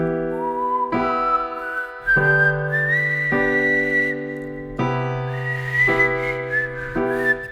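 Someone whistles the melody of a song in clear, sliding phrases over sustained piano chords, loud and close with no talking.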